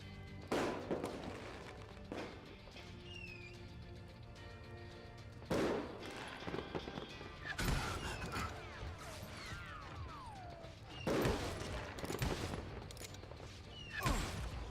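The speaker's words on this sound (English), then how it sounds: "He shot Bill!" Gunfire in a shootout: scattered sharp gunshot cracks at irregular intervals over roughly fifteen seconds, mixed with clattering mechanical sounds and background noise, fairly faint overall.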